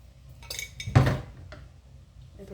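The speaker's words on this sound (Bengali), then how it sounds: "এরপর ভালোভাবে মিশিয়ে নেব।" Vegetable and egg fried rice is stirred in a pan, with a metal utensil scraping and clinking against it: one loud knock in the middle, lighter taps around it and a soft background rumble.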